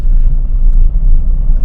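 A car engine running steadily in third gear after an upshift from second, a continuous low rumble that stays close and loud with no voices over it.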